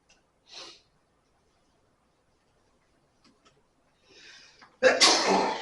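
A sudden loud sneeze bursts out near the end, preceded by a faint sniff and a brief intake of breath in an otherwise quiet statistics classroom.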